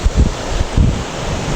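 Wind gusting over Tirtamaya beach in Indramayu, with surf rumbling underneath, loud and close in the microphone, with two heavier buffets about a second apart and no voices.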